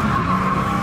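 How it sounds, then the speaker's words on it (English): Tires screeching as a car slides sideways on a drifting track, a loud sustained squeal holding steady through the brief moment, close and without talk. "You got it sideways, and he started to slide."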